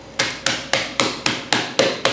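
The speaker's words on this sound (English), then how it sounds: "here you see I have just a tenderizing hammer, and one side is for tenderizing meat, the other side is flat" A flat-faced meat tenderizing hammer strikes walnuts on a kitchen counter, crushing them into smaller pieces: eight sharp, evenly spaced blows, each followed by a short ringing decay, close up with no talking.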